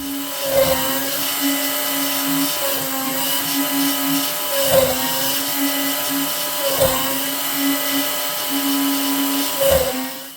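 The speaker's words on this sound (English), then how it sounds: "So I'm going to carry on and get all these holes drilled." A drill runs with a steady, tonal whir while holes are bored for a custom knife sheath, with a brief dip in pitch roughly every two seconds as each hole is cut.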